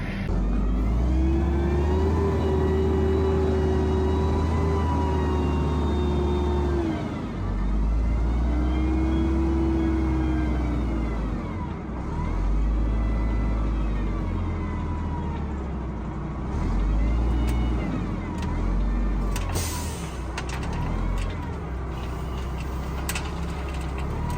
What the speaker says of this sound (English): First dump truck just rolled in.